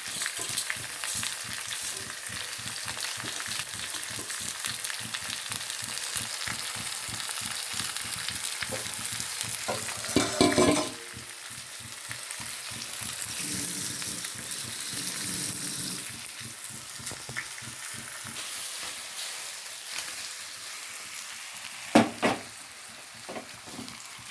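Tamarind dish frying in a pan, a continuous close sizzle broken by a few sharp bursts as the food is tossed, with no talking.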